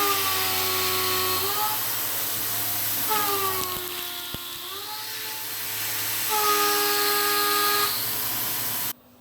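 A Tormach face mill cuts at 6,000 RPM with a 35 thousandths depth of cut, giving a steady high whine with harmonic tones. It sounds in two main passes, easing off between them, and then stops abruptly near the end.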